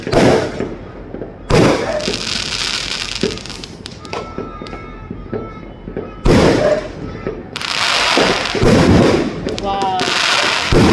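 New Year fireworks burst in loud repeated booms and crackling showers, some sharp and close, others sputtering between blasts, with people's voices heard in the background.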